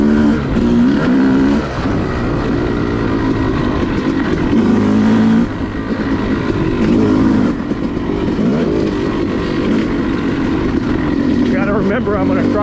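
A Yamaha YZ250 two-stroke dirt bike ridden on an OHV woods trail in spring, its engine loud and close throughout, revving and pulling with rising and falling pitch as it works through the trail.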